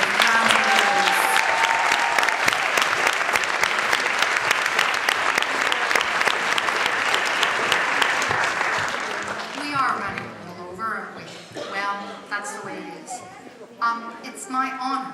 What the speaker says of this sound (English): So please, a massive round of applause.